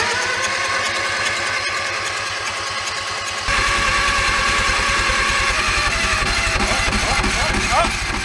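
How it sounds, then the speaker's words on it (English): A engine drive welder's engine cranks over and over in a steady, loud rhythmic chug, trying to start, with the pace shifting partway through as it nearly catches; no voices. "Did you guys see towards the end of that cranking, it was starting to like"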